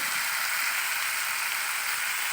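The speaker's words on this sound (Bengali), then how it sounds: "এখানে আমি মশলাটাকে সুন্দর করে কষিয়ে নিচ্ছি" Spices sautéing in a pan for a spicy Bengali meat curry, a steady even sizzle close by with no talking.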